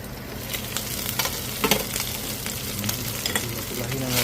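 Garlic and onion sauté in avocado oil with a dense, close sizzle broken by quick crackles and stirring scrapes, steady throughout.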